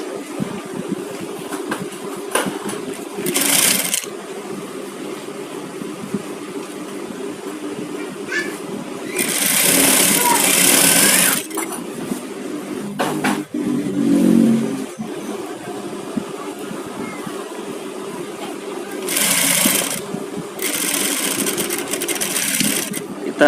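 Sewing machine stitching the side seam of a garment, running in several loud bursts of a few seconds each with quieter gaps between them.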